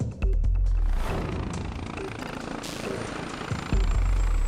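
An air ambulance helicopter in flight gives a steady, loud rotor and engine roar with low thumping, heard from inside or close by and continuing throughout.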